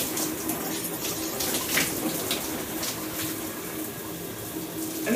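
Water running continuously from a tap while hair is rinsed, a steady close splashing rush with uneven spatters as it hits the hair, no voices.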